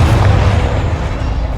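A Confringo fire spell bursts in Hogwarts Legacy as a loud, deep, rumbling explosion that fades out slowly over a second or so.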